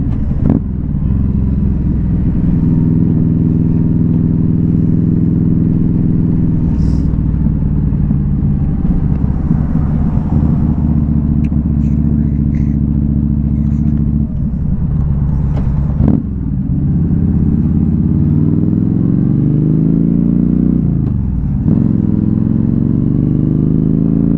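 A 2015 Yamaha V Star 1300 Deluxe SE motorcycle cruises along an evening road, its engine a steady, loud, low rumbling drone throughout, with shifts in pitch as the rider changes speed and a couple of brief dips when gears change.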